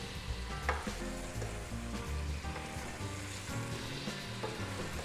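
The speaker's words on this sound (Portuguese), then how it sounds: "Foi só para dar uma refogadinha mesmo, básica. Só para o alho perfumar o azeite." Garlic sautés in olive oil in a pan for a vichyssoise, giving a steady close sizzle that runs through the whole stretch under faint low tonal sounds.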